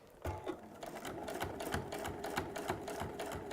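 A sewing machine stitches steadily over quilt binding, with a rapid rhythmic needle chatter that runs continuously and close up, alone without talk.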